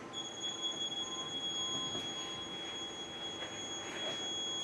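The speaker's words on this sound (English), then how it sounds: "Okay, so you can hear that power supply right now beeping." Power supply of a Wonderlight ultraviolet water sterilizer beeping to signal a bulb fault, a steady high electronic tone persisting over a faint background hum.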